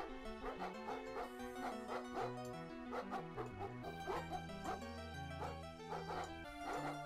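Dog barking and yipping in the Windows XP lawn-mowing game Hover Bovver, repeated short barks over continuous game music, moderately loud and steady throughout with no talking.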